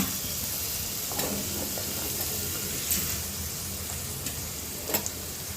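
Carrots and capsicum frying in oil with peas in a pan, an even hiss of sizzling with faint stirring and a couple of sharp spatula taps near the end, close and steady.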